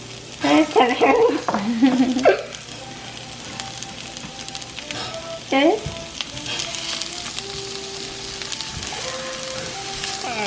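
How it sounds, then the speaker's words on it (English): Celery, onion and jackfruit sautéing in a pan for a jerk jackfruit dish, with a steady close sizzle, bursts of stirring and scraping early and near the middle, and brief talk mixed in. "Okay, we're letting it saute for a minute."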